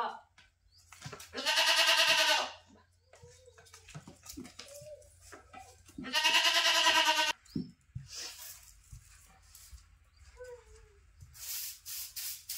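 Two loud, drawn-out sheep bleats ring out close by, separated by quieter stretches with people talking and scattered farmyard noises.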